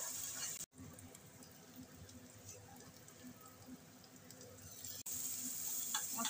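Spices and chicken sizzle and fry in a pan for a curry, giving a quiet, steady crackling hiss with brief breaks where the sound drops out.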